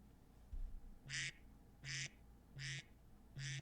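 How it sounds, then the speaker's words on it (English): A phone alarm tone of ducks quacking plays four evenly spaced bursts of nasal quacks, each about a quarter second long, fairly quiet over faint room noise. "that's what I have is ducks quacking"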